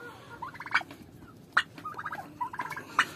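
Poultry birds being fed old clover give repeated loud gobbles and clucks in short bursts, near and without talk, over a low, steady background hum.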